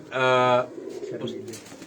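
Shy old pigeons of a cumin-coloured breed give one loud, drawn-out coo up close, followed by quieter, scattered cooing and rustling.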